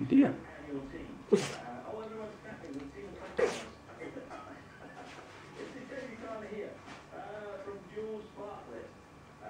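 A paraplegic dachshund sneezes in a fit, with a few sharp bursts standing out near the start and again a few seconds in, while a person talks softly over and between them.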